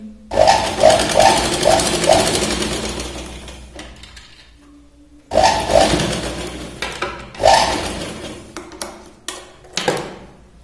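An electric sewing machine stitches the back portion of a princess-cut blouse in two loud bursts of rapid whirring, split by a short pause and ending with clicks and handling taps.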